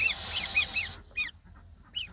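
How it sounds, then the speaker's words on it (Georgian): Young geese honking nearby in quick repeated calls, a run of four honks followed by a pause and a couple more scattered honks. "ახლა განახებთ ბატებს, პატარა ბატებს"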